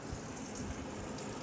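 Hot water runs steadily from a shower head in an off-grid shower, a soft, even, continuous hiss with no talking.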